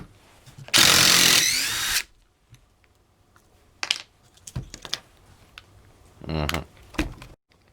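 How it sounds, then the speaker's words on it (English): An impact driver drives a screw in one loud, dense burst lasting about a second, followed by a few short clicks and brief bits of talk. "when you're driving screws with an impact driver"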